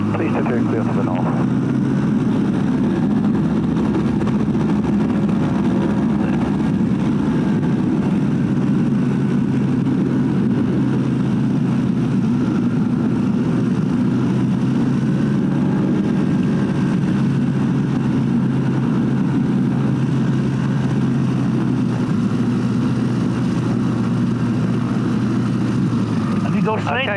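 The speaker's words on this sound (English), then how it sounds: "Oscar Sierra is rolling. That's it, full power now, Jerry, full power." A Falcon motor glider's engine runs at full power as it rolls for takeoff on the runway, a loud, steady droning hum that holds throughout, starting and ending a little softer.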